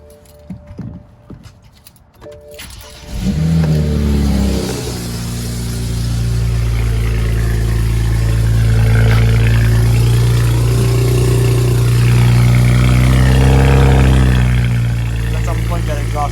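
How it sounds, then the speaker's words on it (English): A BMW N54 engine with a single-turbo conversion cranks and fires up close by, then settles into a loud, rough idle with rising revs held over several seconds, with some talking around it. "All right, so the car is done. Let's fire it up."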